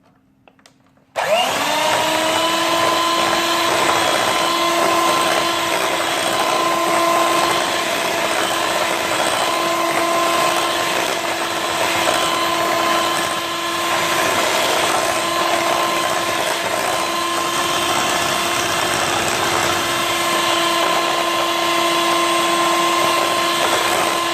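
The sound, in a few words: electric beater mixing butter and eggs for cake rusk batter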